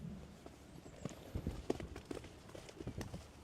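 Horse hooves clip-clop in an uneven, close rhythm of light strikes on the ground, with faint background rustle and no speech.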